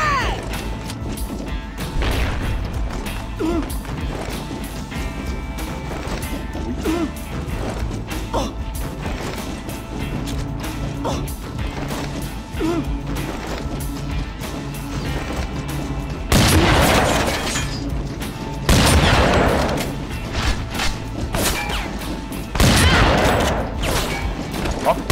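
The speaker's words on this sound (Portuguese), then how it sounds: "Throwing frag!" A frag grenade in a hardcore shooter game. Low rumbling and mechanical clatter run through most of the stretch, then three loud, broad blasts land in the last ten seconds, with faint voices in the background.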